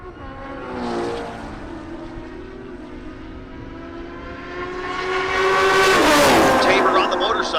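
A motorcycle and a 2016 S550 Ford Mustang drag race side by side at a Great Bend, Kansas dragstrip, engines roaring past in a rising, sweeping blast under a live announcer's commentary.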